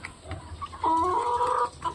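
A brooding backyard chicken gives a short, close clucking call, preceded by faint scattered clucks against quiet background.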